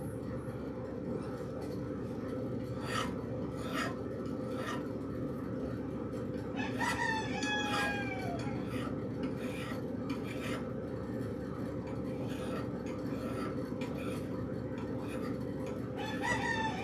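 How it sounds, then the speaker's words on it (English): Chickens cluck and call while a turkey gobbles briefly in the middle, fairly distant, over a constant low rumbling drone. "All you hear is chickens and turkeys gobbling."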